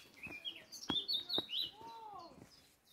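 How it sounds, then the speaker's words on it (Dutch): Birds chirp and sing along a forest walking route near Achouffe, a few close bright tweets and a sweeping whistled phrase over quiet background. "Je hoort toch dat hier veel mooie vogelgeluiden zijn."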